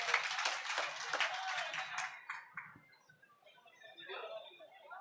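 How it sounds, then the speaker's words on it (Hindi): Audience at an Urdu mushaira in Mubarakpur, Azamgarh claps to welcome a poet, a burst of fairly faint, scattered applause that fades out within a few seconds, followed by quiet talking. "ज़ोरदार तालियों से मोहतरमा सबिया साहिबा का इस्तकबाल फरमा दें"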